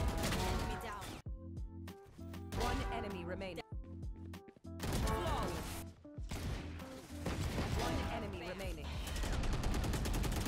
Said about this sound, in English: here's a few more nice shots I hit with Fade on my way to Immortal.